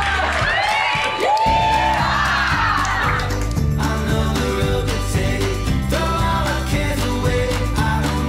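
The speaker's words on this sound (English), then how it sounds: "Let's give them a round of applause" Wedding guests at an event center cheering and whooping loudly as a crowd, a burst of shouts up front giving way to sustained cheering under a steady, pulsing music beat.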